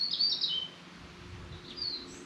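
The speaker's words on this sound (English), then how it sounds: "I've heard in the distance the sound, that elusive sound of the French country bird." A small bird singing in the French countryside, two bright chirping bursts separated by a brief pause, fairly clear against quiet rural background.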